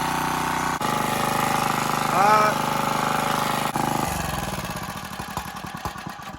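Small gas engine on a water pump running steadily after carburetor work, a loud close rhythmic putter with a brief rev, then a rougher, uneven chug toward the end.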